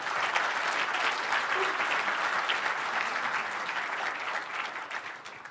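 Audience at a MySQL community conference applauds long-time members, sustained dense clapping at steady loudness throughout, no speech over it.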